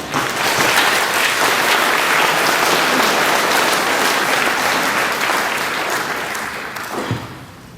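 An audience applauds to welcome Speaker Halbert, dense sustained clapping from a large crowd that stays loud and even for several seconds before slowly fading.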